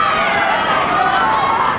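Roaring tennis crowd at the 1998 Adelaide final between Hewitt and Stoltenberg, a dense continuous wall of cheering and shouting that stays loud throughout.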